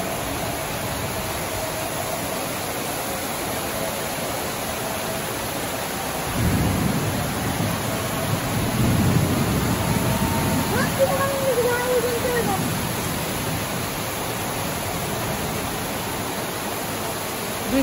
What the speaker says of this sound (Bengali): সুন্দর বৃষ্টি নামছে দেখেন সবাই।